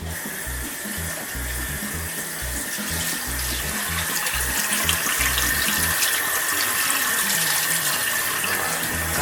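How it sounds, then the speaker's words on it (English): Pieces of venison backstrap are rinsed under a running kitchen tap, a steady close rush of water splashing into the sink that grows slightly louder as it goes. "I'm going to get these out of here and get them washed off real quick."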